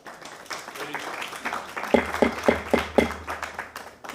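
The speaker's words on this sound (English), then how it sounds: "if you could just hold your applause, ladies and gentlemen" Applause from the public at a city council meeting, a scattered patter of clapping that settles into several sharp, evenly spaced claps, with voices talking underneath and a low hum behind.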